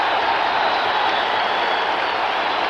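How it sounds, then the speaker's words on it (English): A boxing crowd at the Atlantic City Convention Center on its feet, cheering and applauding in one loud, continuous roar without a break. "The crowd standing on its feet here, Len."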